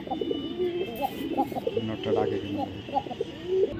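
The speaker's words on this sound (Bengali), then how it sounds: "যারা ইউলো টপ ক্লাসের টয়লা হরে খুঁজতেছে ককা কবুতর" Several Koka pigeons coo in repeated low, throaty rolls from close by, overlapping one another with a steady, busy rhythm and some background noise.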